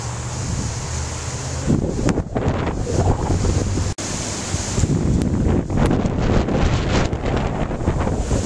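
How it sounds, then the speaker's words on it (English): Strong wind roars and buffets the microphone beside a flooded creek, with rushing water underneath and gusty surges throughout, loud and close. "and the wind is blowing"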